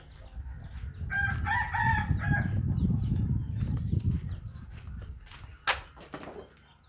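Rooster crows nearby in one full cock-a-doodle-doo, with clucking and low background rustle around it, plus a sharp short noise near the end.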